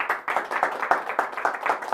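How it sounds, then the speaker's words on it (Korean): A small lecture audience at a Korean university forum claps for two applicants, giving brief, fairly quiet rhythmic clapping from a modest number of people. "두 지원자 박수 한번 부탁드릴까요?"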